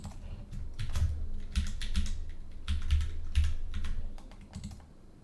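Keys on a computer keyboard are tapped in short bursts while a password is entered, close-up clicks with brief pauses between groups of keystrokes.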